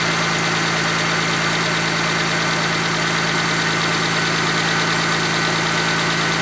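A Mitsubishi FTO with a 2.0 V6 engine, a car under restoration, idles close by with a loud, steady, even hum and no change in pitch, and nobody speaks.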